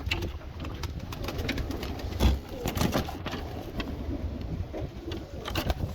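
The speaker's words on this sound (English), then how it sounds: "put this white pigeon in." Soft white pigeon cooing amid a steady low background hum, with a few faint knocks and a louder bump partway through.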